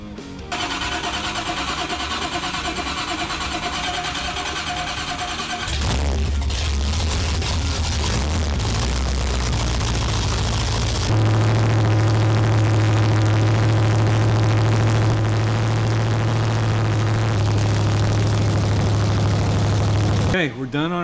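A 396 big block engine on a test stand cranks and fires up, then settles into a loud, steady run before stepping up to a higher, heavier drone that holds to the end.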